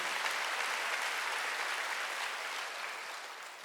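A church congregation applauds, a steady dense wash of clapping from many hands that holds evenly and tapers slightly toward the end, with no talk over it.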